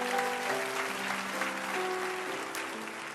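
A church congregation applauds during a sermon, with steady massed clapping and a sustained musical tone underneath, fading slightly toward the end.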